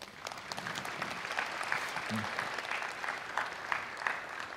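An audience applauds at a student orchestra's annual concert in a school hall; steady, fairly distant clapping from many hands, soft and sustained, with a faint voice briefly audible beneath it.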